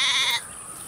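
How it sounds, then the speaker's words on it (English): A single short sheep bleat, close and clear, fading after a brief moment into quiet background. "What sound does a sheep make?"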